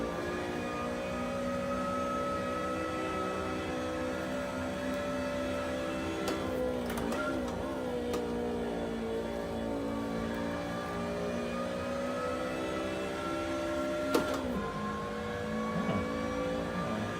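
Race car engine lapping Mosport in the Assetto Corsa sim game, a continuous mid-pitched drone that rises through the revs and dips at gear shifts, steady and moderately loud with no talking.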